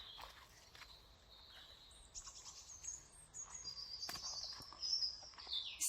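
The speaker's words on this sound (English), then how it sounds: "Can you hear the birds?" Woodland birds chirping and singing at Easter, high thin calls coming from various distances, faint at first and growing busier and closer toward the end, with a soft outdoor hush beneath.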